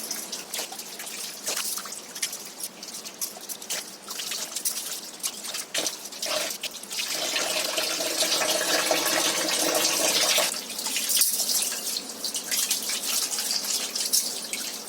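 Water runs steadily from a tap, splashing and trickling as goat intestines are rinsed under it, growing louder in the middle.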